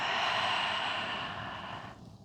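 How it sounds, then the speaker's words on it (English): Someone lets out a deep cleansing exhale through an open mouth during a morning vinyasa yoga practice, a close, steady breathy rush that fades over about two seconds. "open your mouth, exhale, let it go"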